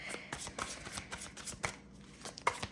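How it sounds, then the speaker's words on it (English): Tarot cards being shuffled by hand nearby, soft papery riffles and slaps arriving in quick irregular bursts, quiet with no voice over them. "We're going to get some pull some tarot cards for clarification"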